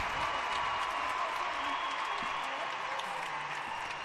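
A large arena crowd at the 2017 World Artistic Gymnastics Championships applauds and cheers after a routine, a steady wash of clapping that stays even and full throughout.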